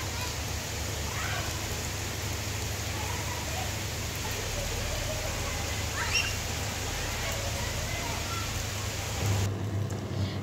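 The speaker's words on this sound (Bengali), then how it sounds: "এখন বৃষ্টি আসতেছে।" Evening rain in a rural Bangladeshi home setting, a steady soft hiss of rainfall on surfaces, fairly faint and continuous, with a few faint bird-like chirps and no speech.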